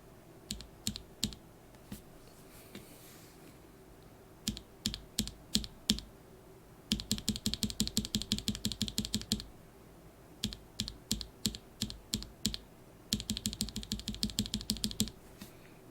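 Mechanical keyboard switches fitted with Kailh Polia stems are typed on in quick bursts of sharp, clacky keystrokes, close and loud, with short pauses between runs.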